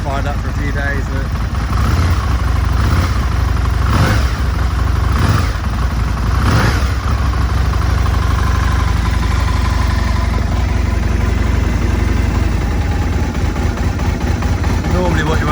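A cold 1999 Aprilia RSV 1000 Mille V-twin idles on choke, a loud steady low rumble throughout with a few brief blips rising above it.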